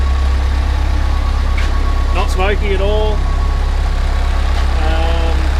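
A 1955 Land Rover Series 1 107-inch engine idles steadily and loudly throughout, a constant low throb under a man's brief speech.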